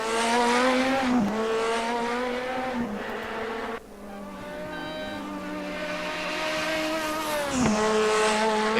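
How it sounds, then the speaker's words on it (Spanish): A race car engine in the RaceRoom racing game, revving hard and loud with sharp gear changes and brief dips, whining steadily between shifts with a faint squeal of tires. "Solo con prender el auto ya te intimida."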